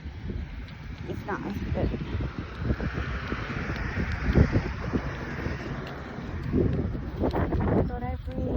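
Wind buffets the microphone during a walk to the park with a baby, a steady rumbling gusty roar that rises and falls while someone talks over it.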